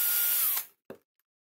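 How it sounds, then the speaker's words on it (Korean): A 2mm drill boring screw holes in a case: a short, high-pitched whine of the drill for about half a second that winds down and stops, followed by one faint knock. "보정나사의 위치를 마킹한 다음 2mm 드릴로 나사 구멍을 만들어줍니다"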